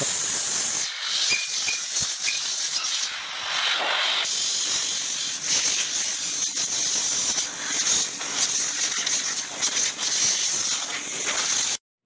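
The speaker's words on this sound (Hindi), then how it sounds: "तो उसके लिए हम एयर प्रेशर के साथ इसको" Compressed air blasts steadily through an electric fan heater during servicing, a loud continuous hiss with brief dips and surges, close by and alone.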